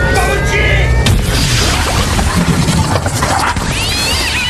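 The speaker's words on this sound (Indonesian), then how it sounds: "tembakan itu bisa merusak perisai si alien." Sci-fi weapon fire striking an alien's shield in a film, heard as loud booming, crashing impacts with whooshing effects under a dense soundtrack, and a voice briefly audible.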